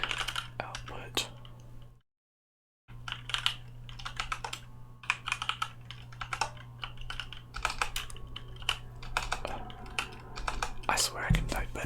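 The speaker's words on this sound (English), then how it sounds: "That looks correct, but I'm gonna type it out." Rapid, irregular clacking of a computer keyboard typed on in someone's lap, close and crisp, with quiet whispering mixed in and a brief silent gap early on.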